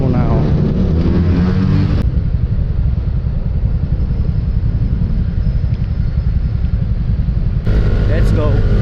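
Motorcycle tricycle riding through EDSA traffic, its engine giving a loud, continuous low rumble close to the rider, with wind and road noise shifting partway through.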